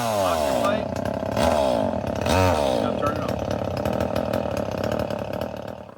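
A chainsaw runs loud and close during storm cleanup, its engine revving up and down in surges with a buzzing, rasping whine across the whole stretch.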